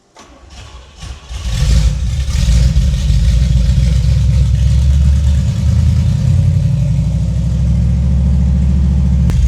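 A freshly built 350 V8 on a dyno cranks and catches after a brief start, then settles into a loud, steady, rumbling run that holds close and even to the end.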